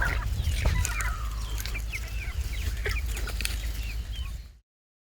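Chickens cluck and chatter inside a small coop of about forty birds set in a wooded area, heard over a steady low rumble before the sound cuts out abruptly.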